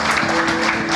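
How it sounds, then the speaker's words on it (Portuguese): Church congregation clapping for the Lord during a sermon, a dense, steady wash of applause filling the whole moment with a faint low hum beneath. "Uma salva de palmas para o Senhor."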